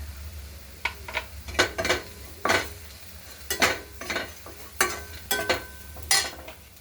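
Spices and onion being sautéed in oil for broccoli bhaji with peanut powder, a spoon scraping and stirring against the pan in irregular clattering strokes over a low, steady sizzle.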